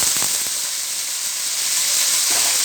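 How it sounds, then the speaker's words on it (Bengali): Potatoes frying in a hot wok (kadai) for a ridge gourd and prawn curry, a loud, steady bright sizzle throughout with a couple of faint stirring knocks, no one talking. "এবারে আমি কড়াতে আলু দিয়ে দেব।"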